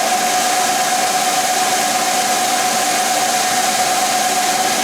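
Knee mill running in back gear with an annular cutter adaptor: a steady, even mechanical hum with a sustained whining tone and broadband motor noise, continuous and close, with no talk.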